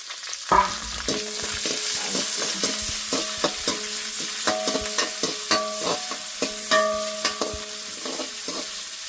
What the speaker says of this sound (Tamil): வெங்காயம் பச்சை மிளகாய் போடுவாங்க